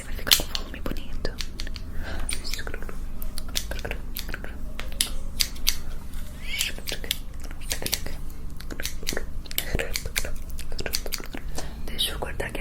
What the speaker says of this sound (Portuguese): Deixa eu cortar aqui atrás.